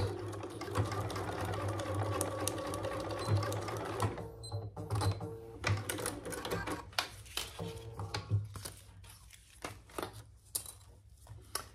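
A sewing machine fitted with a 90/14 needle stitches through vinyl and zippers for a bag hardware case, running in a steady rapid whir for about four seconds, then in short stop-start bursts, close and clear.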